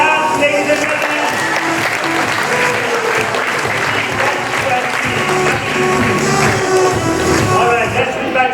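An audience at a large quiz competition grand finale in North Bengal claps continuously, a dense and steady wash of applause throughout.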